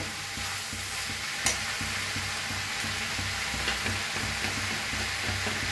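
Cabbage bhaji being stirred in a frying pan, the spoon scraping in a steady repeated rhythm over a continuous loud sizzle, close by and with no voices.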